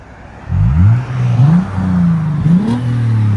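A 2013 Lexus GS 350 with a 3.5L V6 and LCGP resonators revs up close by in a series of rising, falling blips, with a smooth, fairly restrained exhaust tone between pulls.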